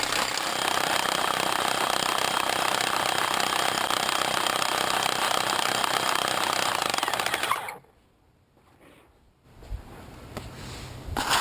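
A loud, continuous hammer drill with a core hole saw rattles through a concrete curb for several seconds, then cuts out briefly before grinding starts up again.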